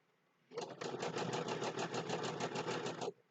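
A sewing machine stitches a Christmas table runner at a slow, steady pace, its needle beating in an even rapid rhythm for about two and a half seconds, close and alone, before it stops.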